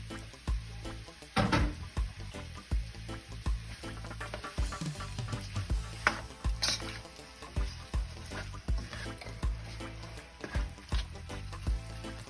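Vegetables fry in a pan for Jamaican brown stew fish, giving a steady, close sizzle with scattered crackles and pops throughout.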